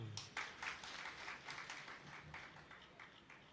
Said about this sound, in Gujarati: ખાલી પ્રભારીઓ તાળી પાડો.